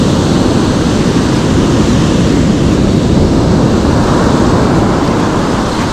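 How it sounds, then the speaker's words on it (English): Waves breaking and washing against a lake shore on a perch fishing outing, a loud, steady rush of surf with wind noise across the microphone and no talk. "Look at the waves we're doing though."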